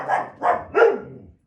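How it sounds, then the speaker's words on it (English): A dog barks three times in quick succession, close and fairly loud, each bark short and rough with a slight whine in the tail, and no voices over it. "I'm surprised it took this long for them to actually start barking."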